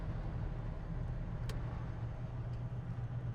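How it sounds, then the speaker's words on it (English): A 1984 GMC C/K 1500 regular cab 2WD truck idling at a traffic stop, steady low engine rumble heard from inside the cab, with a faint click partway through. "We're going to come to a stop and we will show you how the vehicle is idling."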